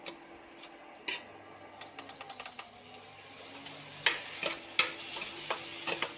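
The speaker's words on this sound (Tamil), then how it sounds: "உருளைக்கிழங்கையும் தக்காளியில் சேர்த்து கொஞ்சம் வதக்கி விட்டுக்கலாம்" Potatoes and tomatoes sautéing in a pan for a spicy kara kuzhambu, with soft sizzling and sharp clicks and scrapes of a spoon stirring, growing louder and busier toward the end.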